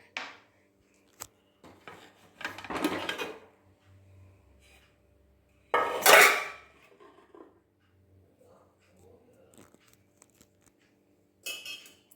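A pressure cooker of mutton stew is opened: metal lid clanks and clinks, with two short broadband bursts that sound like a steam hiss or lid clatter, then quieter handling noises, all close by with no talking.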